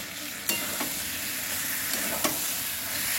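Continuous sizzling of spring gourd and potato curry sautéing in oil for a fish curry, with a few sharp spoon scrapes against the pan, close up and steady.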